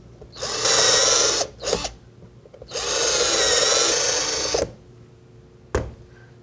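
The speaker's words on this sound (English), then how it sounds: "clamp it in place, and drill." A power drill bores holes into wood clamped under a drilling guide: two long whining bursts and a brief one between them, then a short final spin-up, close and loud with quiet gaps and no talk.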